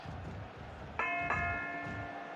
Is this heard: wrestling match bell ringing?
yes